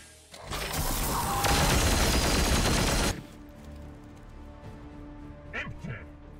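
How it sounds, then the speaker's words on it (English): Sustained heavy gunfire in the sci-fi strategy game Warhammer 40,000: Chaos Gate - Daemonhunter, a loud dense barrage lasting about three seconds, then fading into quieter ambience. "Fire on them."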